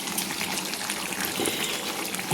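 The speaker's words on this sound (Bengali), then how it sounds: "তো আমি এতে গরম জল ইউজ করেছি।" Hot water poured into a pot of papaya and chicken hajari kosha curry, a continuous close splashing and trickling pour lasting a couple of seconds with no voices.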